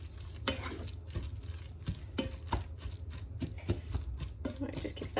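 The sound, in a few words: lentil bolognese vegetables frying while stirred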